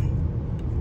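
A 2024 Mazda CX-90 Turbo S Premium on the move, a steady low road rumble and engine drone heard from inside the cabin, continuous and even with no talking.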